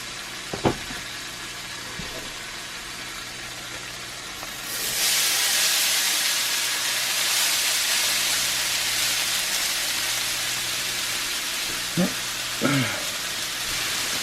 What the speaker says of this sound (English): because I want to cook up the bacon first